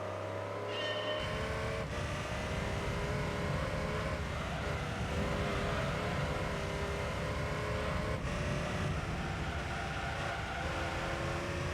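A Pagani Zonda's engine in Gran Turismo 3 roars steadily through a test run at Rome, a loud continuous drone with shifting pitch and a couple of sharp gear changes, no talking.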